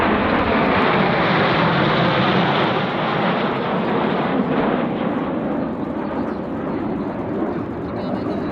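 A Dassault-Breguet Alpha Jet trainer of the Patrouille de France flies past at an air show in Gap-Tallard, a loud sustained jet roar that fills the whole stretch and eases slightly toward the end.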